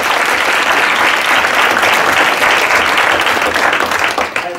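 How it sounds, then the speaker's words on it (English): Loud, dense applause from an audience at a business school lecture, sustained steadily before tapering slightly at the end. "Big round of applause."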